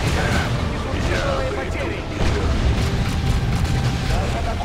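A tactical explosion in the real-time strategy game Warhammer 40,000: Dawn of War II, a loud, dense blast and rumble mixed with battle noise, with voices speaking over the din.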